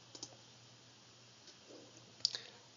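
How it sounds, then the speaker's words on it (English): Single computer mouse click on a software Preview button, a faint, sharp tick close by in a quiet room, with only a few soft taps around it. "click on Preview once"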